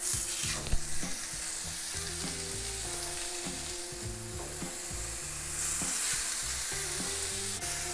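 Loud, steady sizzling of hamburger patties frying over high heat in a hot pan, with occasional scrapes and clinks of a utensil, close up and continuous.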